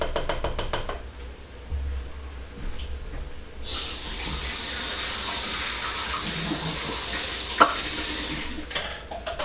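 Tap water runs into a sink to rinse out a measuring cup while baked beans are being made, a steady soft splashing hiss that starts a few seconds in and continues, with a brief clink near the end and no talk.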